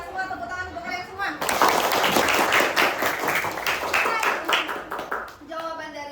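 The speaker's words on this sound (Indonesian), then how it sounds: "tepuk tangan untuk kalian semua" Schoolchildren in a primary class clap together, a loud burst of rapid applause lasting several seconds that fades out, with a voice speaking before and after it.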